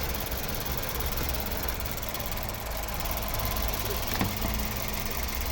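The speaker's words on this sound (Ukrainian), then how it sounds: "Ось робота двигуна" A 2013-14 Mazda 5 2.0-litre petrol engine idles steadily and evenly, a constant low rumble with a faint ticking tap near the end; no one speaks.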